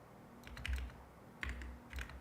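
Keys are typed on a computer keyboard in three short, quiet bursts of soft clicks and thumps, close and alone, with brief pauses between.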